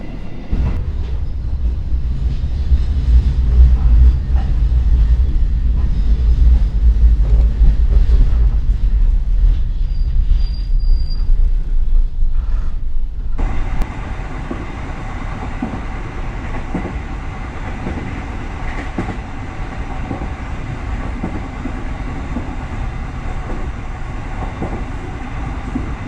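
The Progo economy train pulls into Purwokerto station and stops, a loud rumbling roll of wheels and carriages that drops to a quieter steady hum of the idling train and station.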